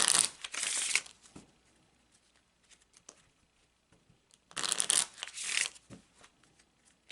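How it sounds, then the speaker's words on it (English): Two bursts of Kipper cards being riffle-shuffled, a crisp fluttering rush each time, separated by a quiet stretch with faint handling clicks. "So you want to shuffle that into the cards."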